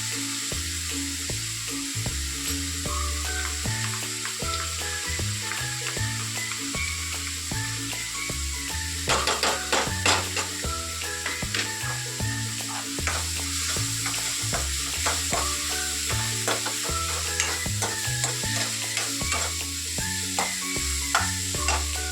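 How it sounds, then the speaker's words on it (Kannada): Ginger garlic paste frying in a pan for egg bhurji, stirred steadily: constant close sizzle with rhythmic scraping strokes of a spoon against the pan, growing busier with crackling partway through, no voices. "ಇದು ಚೆನ್ನಾಗಿ ಫ್ರೈ ಆಗಬೇಕು. ಇವಾಗ ಶುಂಠಿ ಬೆಳ್ಳುಳ್ಳಿ ಪೇಸ್ಟ್ ಹಾಕ್ತಾ ಇದ್ದೀನಿ."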